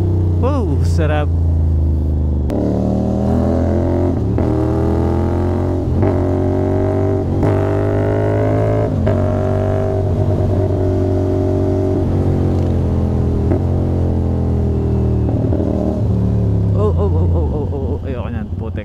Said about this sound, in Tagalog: sana na-enjoy nyo yung tunog ni 450NK